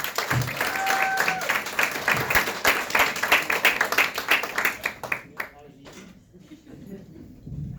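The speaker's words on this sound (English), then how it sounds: "Give yourselves all a big round of applause for being here tonight." Stand-up comedy audience breaks into a burst of applause and clapping that peaks, then thins out and fades, with a voice over the tail.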